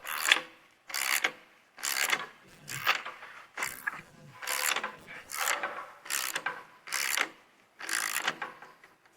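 A spring compressor is cranked to compress a shock absorber spring. About ten evenly spaced rasping, grinding strokes sound up close, each a short burst with a pause between, and there is no talk.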